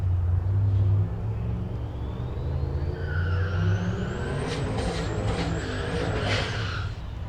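A silver Chevrolet Silverado pickup racing down the drag strip at Tulsa Raceway Park, its engine a loud continuous roar with a rising whine as it passes, heavy rumble throughout.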